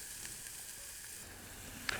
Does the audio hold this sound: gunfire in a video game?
no